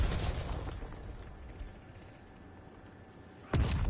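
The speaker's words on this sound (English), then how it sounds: "Incoming frag!" A frag grenade goes off in a multiplayer shooter game, a loud low boom at the start that rumbles away, with a second sharp blast near the end.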